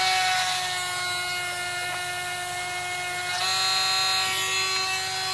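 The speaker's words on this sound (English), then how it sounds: "I'm just going to put another little cut down in that side there as well with the old Dremel" A Dremel rotary tool fitted with a sandstone bit cuts a small recess in an aquarium sterilizer build, a steady high-pitched whine running alone and close throughout with a brief dip in pitch midway.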